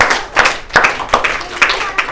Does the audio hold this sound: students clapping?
yes